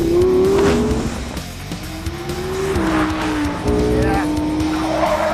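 Audi R8 sports car with 610 brake horsepower driving hard on a winding track, engine note rising and dropping through gear changes with squealing tyres, close and loud, a brief voice over the top.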